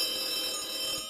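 A phone ringing in a Rec Room horror video game, a bright electronic ring tone sounding steadily at moderate level and cutting off near the end.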